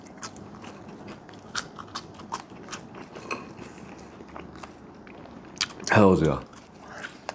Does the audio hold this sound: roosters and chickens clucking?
no